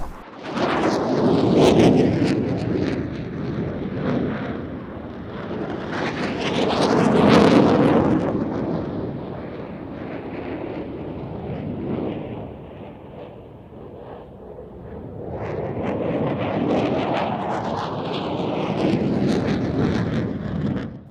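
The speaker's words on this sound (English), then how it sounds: "The F-16 completing that Cuban 8, and both aircraft heading out to the left-hand side for the next manoeuvre." F-16 Falcon and JF-17 Thunder fighter jets flying an airshow display at Izmir, with engine roar swelling and fading in three long passes as the aircraft sweep by, loud at each peak.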